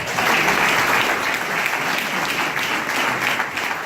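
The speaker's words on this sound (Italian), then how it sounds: "un applauso per Gianluigi e per Hook soprattutto" An audience claps steadily in a dense, continuous burst of applause at an event honoring a painter and his dog Hook.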